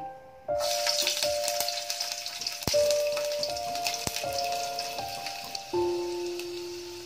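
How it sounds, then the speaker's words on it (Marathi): Garlic dropped into hot oil at the start of a masala chole recipe bursts into a bright, loud sizzle that holds steady and then slowly eases, with a few knocks and clinks of the pan, close by. "आपलं तर तेल चांगलं तापलं आहे, त्यामध्ये मी प्रथम लसूण टाकते"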